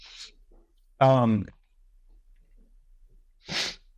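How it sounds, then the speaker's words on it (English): Short sniffling breaths through a congested nose, one brief sniff at the start and another near the end, close and fairly quiet, with a louder voiced breathy sound in between and near-silence around them. "Sorry, a bit of the sniffles today."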